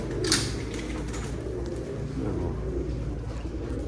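Mardin pigeons, a flock of Turkish show birds, cooing softly in a low murmuring chorus that continues without pause, with faint background noise.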